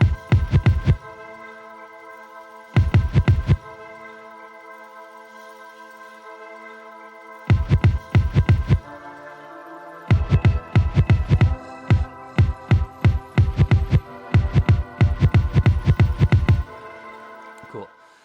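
A hip-hop beat backs a keyboard chord progression that runs through a B diminished chord, with punchy bursts of drum hits separated by sustained chords and a record scratch effect among the hits.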